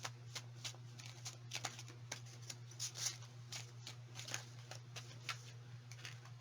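A tarot card deck being shuffled close by: a rapid run of soft, crisp card riffles and flicks repeating steadily over a low constant hum, quiet, with no talking.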